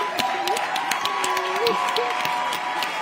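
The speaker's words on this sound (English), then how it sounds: "Let's give her a round of applause." A crowd applauds and cheers someone speaker welcomed onstage at a live Forbes 30 Under 30 event: dense, steady clapping with scattered whoops and tonal voices over it, filling the space at a fairly even level throughout.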